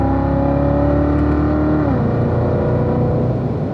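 A Corvette engine drones loudly and steadily around a race track, its tone dropping slightly partway through as the car holds its line, with no voices over it.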